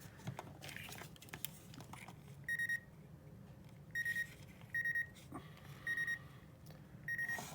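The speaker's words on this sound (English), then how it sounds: "we're getting a beep and it's lighting up the store light" A Radio Shack 90 memory dialer gives short electronic beeps repeating at irregular intervals, clear and close, over a low background of handling and rustling noise.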